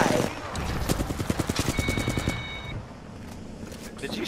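Rapid automatic gunfire in the battle royale shooter Apex Legends, a loud burst of close shots in quick rhythm lasting under two seconds, followed by quieter game ambience.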